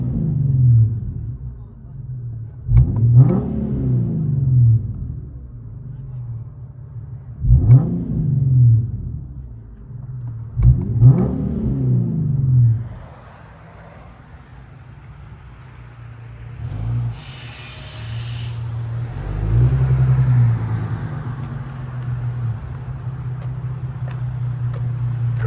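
A 2014 Infiniti Q50 S with its 3.7L V6 and Dynomax Race Bullets exhaust, heard from inside the cabin: three sharp revs that rise and fall, then a quieter idling rumble with a brief clatter and one more swell.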